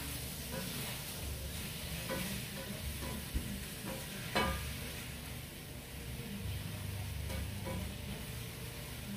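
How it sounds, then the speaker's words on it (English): Zucchini frying in a pan, a steady sizzle broken by a few clicks and scrapes from a utensil stirring the pieces, close and moderately loud with no talking. "The zucchini seems to be cooking well. I'm mixing it up a little bit."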